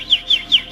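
Someone's voice imitates a small bird: three quick, bright whistled chirps in an even rhythm, clear and close with no talking.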